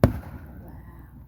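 A single loud 4th of July firework boom opens the moment, its rumbling tail fading away over the next second outdoors in the rain.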